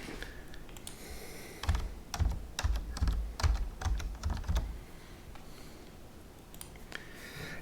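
Someone types a login on a computer keyboard in a quiet room, a quick burst of close, crisp keystrokes in an uneven rhythm that stops after a few seconds, then only low background hiss.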